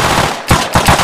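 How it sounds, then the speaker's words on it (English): A revolver in a video game fires in very rapid succession, loud close shots cracking a few at a time within about a second. "You can't shoot a revolver that fast at all,"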